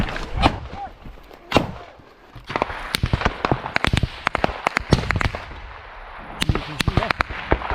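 Gunfire crackles during a combat assault as covering fire, with sharp, loud shots in irregular bursts and clusters, some close and punchy, with quieter stretches between volleys.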